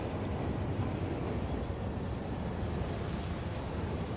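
Steady, continuous rumble of a train pulling into a station in the factory-building game Satisfactory, a dense low roar with no clear breaks, heard alone without talk.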